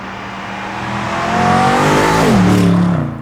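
A BMW M850i Cabriolet, the 8-Series convertible with a V8, drives along a country road, its engine rising steadily in a loud, close roar and then shifting to a lower tone near the end.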